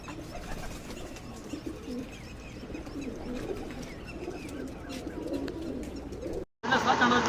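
Pigeons cooing at a pigeon-flying gathering in Amritsar, soft repeated low coos close by over a busy background, with a brief dropout near the end.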